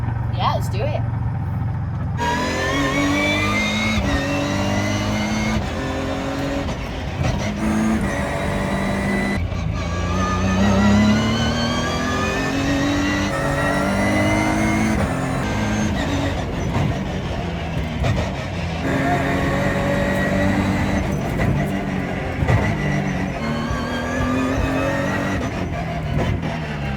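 A Ginetta G56 GTA race car on full wet tyres drives on a track, its engine droning steadily and rising and falling through gear changes for the whole stretch, loud and close, with a voice talking over it.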